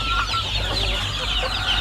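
Free-range village chickens clucking nearby, a steady murmur of overlapping clucks over a low background hum.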